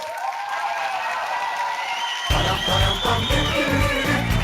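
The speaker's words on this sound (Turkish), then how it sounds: "çok büyük alkış" Audience applause at a stand-up comedy show swells suddenly from a thin background into dense, loud clapping with cheering, sustained and close, continuing to the end.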